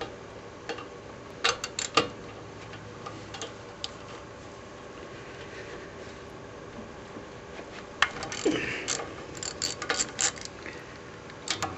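A ratchet loosens T45 Torx bolts on the front brakes of a 1997 Ford Expedition, producing faint, quiet ticking clicks in scattered bursts with short pauses between them.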